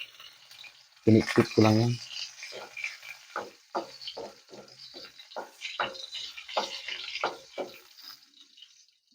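Garlic hits hot oil with string beans and squash, a loud sizzling burst, then a run of scraping stirring strokes and softer frying; a voice speaks briefly.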